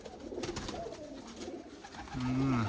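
Sizy pigeons brought from Turkistan coo softly in a loft, with low throaty calls building to a louder, clear coo near the end.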